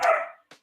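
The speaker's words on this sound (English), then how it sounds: "So well, I guess he's not chewing on it because you can hear him barking." A dog barks close by: one loud, full bark followed after a short pause by a softer, clipped second yip, brief and alone without any talking.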